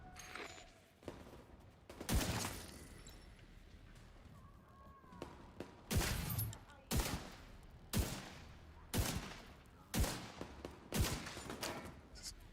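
Video game gunfire sounds in a series of sharp, punchy bursts roughly every second or two, fairly distant and moderate in level, with quieter scattered shots between them.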